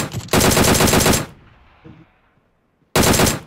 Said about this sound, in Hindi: हाँ लगाओ शॉट अब इधर से।